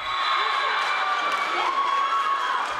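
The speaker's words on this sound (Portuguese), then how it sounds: "a torcida vibrava" A crowd at a youth futsal match cheering and shouting steadily after a goal, a loud, dense roar of voices with whoops and some applause, sustained throughout.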